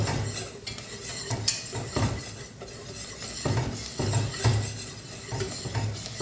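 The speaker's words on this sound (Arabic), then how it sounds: "غنستعملوا بحال هكا الطراب باش نحلوا شويه داك الدقيق" A whisk stirs flour into liquid in a pot for a white soup, making quick rhythmic scraping and clinking strokes against the metal that come in close, fairly quiet bursts.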